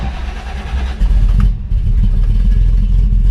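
A 1968 Chevelle with a refreshed LS6 454 V8 pulls away, its deep, loud engine rumble swelling as it revs up, heard close from inside the car with no talk.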